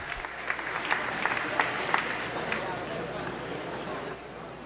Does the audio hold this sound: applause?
yes